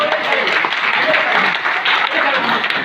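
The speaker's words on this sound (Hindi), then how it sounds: "बताइए इनके लिए ताली बजना चाहिए," Applause from an audience at a Hindi political speech, a dense continuous clapping that stays loud and steady throughout.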